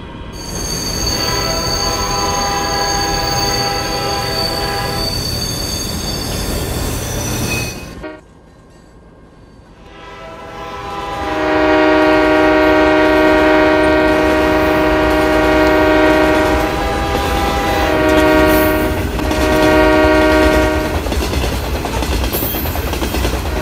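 A tanker train in a video game runs with loud squealing wheels and sustained horn blasts, briefly quieting before the horn and rolling noise return strongly.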